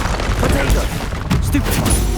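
Bombarda blasting spell in Hogwarts Legacy during a troll fight, loud dense booms and rumbling impacts layered with battle noise, close and sustained.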